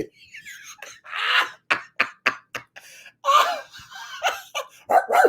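A small dog yaps and squeals in quick, high-pitched bursts, several sharp barks in a row, close by and fairly loud.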